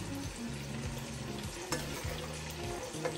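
Salsa is added to a hot pan for morisqueta michoacana, sizzling and frying steadily with repeated scraping stirs from a utensil, close up and without talk.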